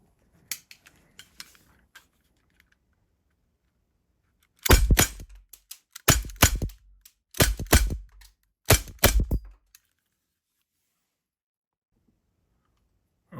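Umarex Glock 17 airgun fired in four sharp, loud bursts, each a quick cluster of snapping cracks with clicking mechanism noise, preceded by faint handling clicks and followed by quiet.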